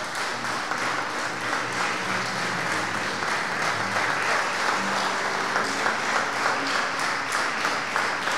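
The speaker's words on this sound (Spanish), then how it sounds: "Dele un aplauso fuerte al Señor." A church congregation applauds loudly and steadily for the full stretch, a dense, even wash of many hands clapping at a worship service, with no voice standing out.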